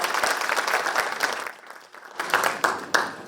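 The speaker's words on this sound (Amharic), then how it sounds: "ለሷም ሞቅ ያለ ጭብጨባ" An audience applauds for a student at a school awards event, producing a dense, steady burst of clapping that dips briefly, then swells again with a few sharper claps.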